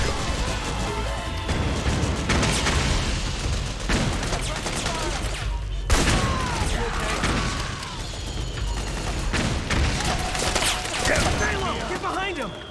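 Gunfire in Metal Gear Solid 4: Guns of the Patriots during a sniping firefight with a machine gunner: bursts of automatic fire and sharp single shots with crashing impacts, while a player talks over the action.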